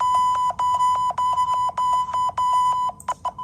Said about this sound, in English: Next up, the French EAS alarm